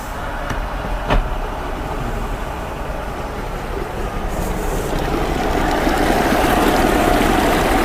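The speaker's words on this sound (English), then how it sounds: "Okay, let's put it in gear." An outboard motor runs in gear while clamped in a barrel of water, giving a steady, churning mechanical drone that grows slightly louder toward the end, with no voices.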